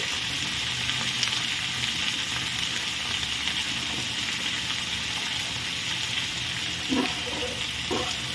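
Small cut pumpkin pieces sizzle and fry steadily in a pan while being stirred, a continuous close crackle with a few brief louder stirring scrapes near the end.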